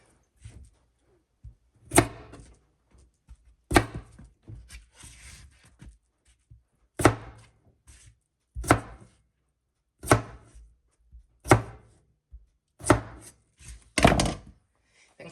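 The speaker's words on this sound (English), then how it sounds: "Let me shut up for the rest of the chopping so y'all can enjoy this little" A knife chops potatoes on a cutting board in a home kitchen: sharp, close thuds land one at a time at an uneven pace, with quiet gaps between strokes and no talking.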